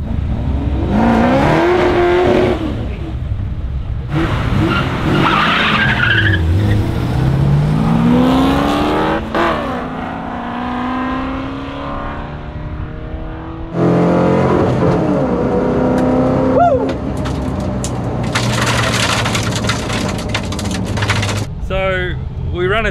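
A drag race car does a burnout at a drag strip, its engine roaring loud and continuous with revving surges and tire squeal, and long stretches of harsh mechanical noise. Voices may be mixed in.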